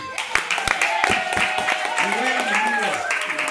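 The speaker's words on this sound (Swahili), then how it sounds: "Situmpe Yesu makofi" A church congregation claps for Jesus in scattered, sharp bursts that mix with voices talking and calling out over the applause.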